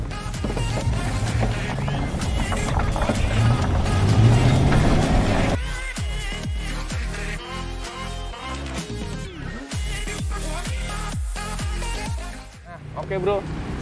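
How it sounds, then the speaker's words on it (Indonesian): Student-built Geni Biru E-Falco electric car from Universitas Mercu Buana driving, a rushing road and wind roar that builds then settles into bumpy thuds and rattles over uneven ground, with talk over it. "Gue lagi nyobain mobil listrik Geni biru Evalco bikinan mahasiswa Universitas Mercu Buana"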